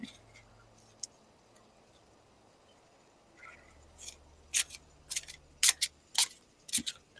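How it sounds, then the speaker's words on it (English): Tarot cards are shuffled close to the microphone. After a quiet start with a single tap, a run of crisp riffling snaps and flicks builds in short irregular bursts toward the end. "Tell me when to stop shuffling."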